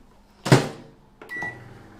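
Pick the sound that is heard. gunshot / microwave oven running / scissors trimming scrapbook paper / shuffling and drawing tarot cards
microwave oven running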